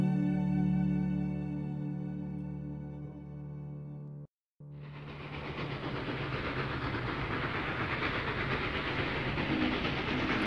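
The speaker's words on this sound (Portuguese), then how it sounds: "o pequeno príncipe avistou um trem iluminado que vinha passando roncando como um trovão" A passing train serves as a sound effect in an audiobook of The Little Prince: a loud humming engine drone cuts briefly to silence, then a dense rattling, roaring rush of train noise sweeps steadily by.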